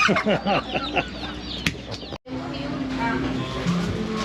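Chickens cluck and squawk close by in short bursts on Oahu's North Shore, Hawaii, mixed with people talking over steady outdoor background noise.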